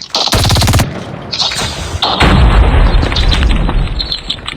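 Rapid bursts of automatic gunfire crackle in a video game, then a heavy explosion booms and rumbles on; loud and close, with game-style sound effects and no speech.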